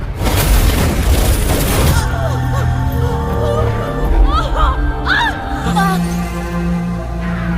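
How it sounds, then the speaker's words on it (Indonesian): Heavy gunfire from many guns in an Indian film, a loud dense burst of shots and booms for the first two seconds, followed by cries, gasps and voices over a background score. "Dan mereka semua menembakkan senjata dengan ratusan peluru yang menghabisi keluarga ini sampai tidak tersisa satupun."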